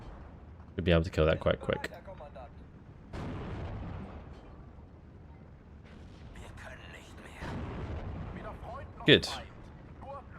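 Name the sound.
infantry gun artillery fire in video game Steel Division 2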